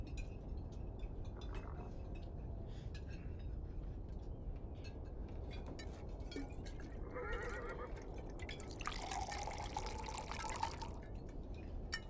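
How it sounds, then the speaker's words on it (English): Water poured from a vessel in the Beyond: Two Souls game, a bright trickling, splashing stream rising in the second half over a steady ambient outdoor bed with faint drips, no voices. "Jodie needs help pouring water"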